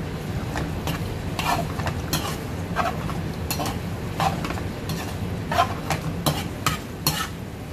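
Mezze maniche pasta being stirred through red sauce in a pan, with repeated clinks and scrapes of a utensil over a low background sizzle, close and without talking.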